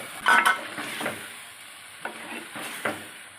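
Curry being sautéed and stirred in a pan while making semiya biryani, with a few scraping stir strokes and a soft sizzle close by, alone without talk.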